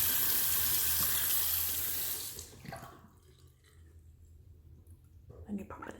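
Tap water runs steadily while an Invisalign aligner is rinsed, a close, bright rush lasting a little over two seconds before it shuts off, followed by quiet with faint handling clicks.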